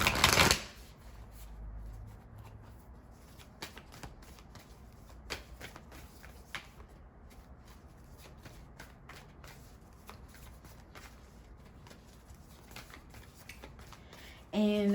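Tarot cards being shuffled in repeated soft riffling bursts and flicks close by, quiet throughout, with a brief louder noise at the start and end.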